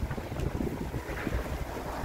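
Stormy wind gusting through trees outdoors, a dense, continuous rushing roar with microphone buffeting, heard alone.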